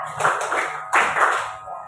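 Junior high school students clap their hands together in short grouped bursts during a counting clap game, near and fairly loud with brief pauses between rounds.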